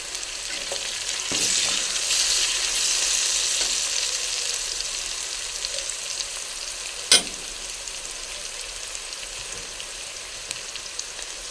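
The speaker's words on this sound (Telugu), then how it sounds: "దీంట్లో ఒక 2 రెల్లలు కరివేపాకు వేసుకుందాం." Curry leaves frying with sliced onions in hot oil for a raw banana masala curry, a steady close sizzle and crackle throughout with one sharp pop partway through, no talking.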